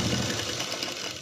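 A sewing machine stitches the border of a garment's lining, a close, steady, fast mechanical whirr that runs continuously without pause or talk.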